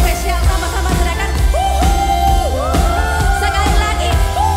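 Children shouting together during an online church service for kids, loud repeated group shouts over booming music with a bass pulse, crowded and energetic throughout.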